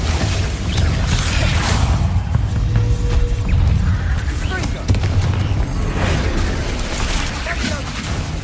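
The Bombarda blast spell in Hogwarts Legacy combat produces loud rumbling booms and crashes within dense, continuous game noise lasting several seconds.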